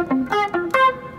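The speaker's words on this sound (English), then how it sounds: "It's very short staccato notes." A few short staccato notes on an electric guitar with no delay, four dry clipped plucks in quick succession, close and clear with nothing else heard.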